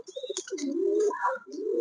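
A pair of pigeons coo close by, soft rolling low coos with light chirps and a brief rustle, clear and alone.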